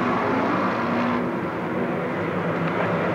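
Racing cars in the BBC Top Gear Trophy race drone past in a steady, dense engine roar, loud and continuous throughout.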